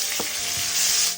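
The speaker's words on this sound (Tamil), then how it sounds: "அதே எண்ணெயில் கொஞ்சம் கடுகு தாளிச்சிக்கலாம், ஜீரகம் போட்டுக்கலாம், வெந்தயம் போட்டுக்கலாம், கருவேப்பிலை சேர்த்துக்கலாம்" Mustard seeds, cumin, fenugreek, curry leaves, green chili and chopped garlic sizzle loudly in hot oil, with a steady close frying hiss and a couple of brief pops, and no talking.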